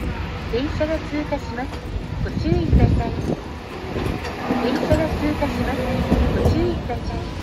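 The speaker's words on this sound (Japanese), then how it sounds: "電車が通過します。" A Hiroshima Electric Railway streetcar passes at Hiroshima Station, giving a steady rumble with clattering and squealing, joined by a repeated platform warning announcement and crowd noise.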